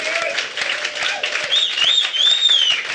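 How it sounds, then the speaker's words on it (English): An audience at a live reading show applauds for the sound producer, with steady, close clapping running throughout and a whoop rising above it. "We should do this applause for Dennis, our sound producer"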